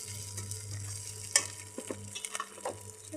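A spiced paste with turmeric and chili powder stirs and fries in a pan, a low steady sizzle broken by a few scraping, clicking strokes of a spatula, close and quiet with no talk.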